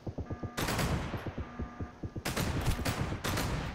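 Rapid bursts of mounted gunfire in the survival game Sunkenland, loud and close, stuttering in repeated volleys with brief gaps between them.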